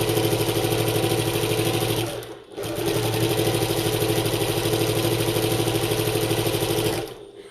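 A sewing machine runs steadily while stitching a bucket tote bag, a loud, close, continuous mechanical whirr with a rapid needle rhythm. It stops briefly near the start, starts again and cuts off at the end.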